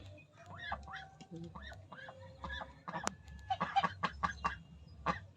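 Pekin ducks and ducklings call close by, high thin peeps giving way to a cluster of louder, raspy quacks in uneven bursts.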